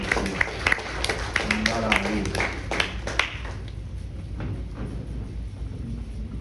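A church congregation at a revival service applauds, with scattered sharp hand claps over talk and music for the first few seconds, then thinning into a quieter murmur.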